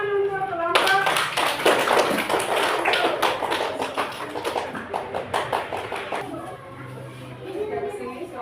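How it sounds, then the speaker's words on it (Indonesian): Group applause from an audience, dense close clapping that thins into slower scattered claps, with voices faintly underneath. "Ya, tepuk tangan untuk kelompok"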